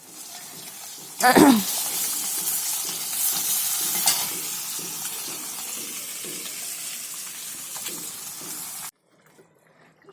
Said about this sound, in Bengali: প্রথমে আমরা মাছটাকে আমি ভেজে মাছের ঝোলটা আমি করে নিচ্ছি